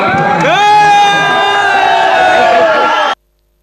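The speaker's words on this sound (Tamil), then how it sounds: "கதாநாயகனை கண்ட ரசிகர்கள் ஆரவாரம் செய்தனர்" Loud crowd of fans cheering and whooping at the sight of the film's hero at a theatre, continuous roaring voices that cut off abruptly.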